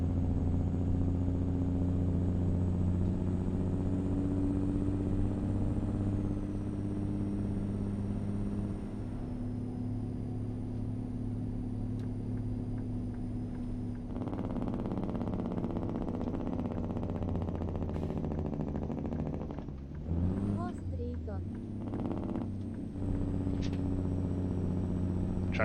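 A truck's engine brake on the road in Kansas gives a steady, close, low harmonic rumble, with a few rougher bursts near the end. No one speaks.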